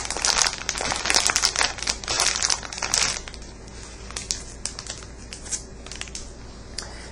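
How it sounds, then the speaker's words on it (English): Crinkly, crumpling rustle of a pastry bag being filled with a meringue powder mixture for pistachio macarons, dense and busy for the first three seconds, then thinning to sparse soft crackles and taps. "go ahead and fill your pastry bag with the"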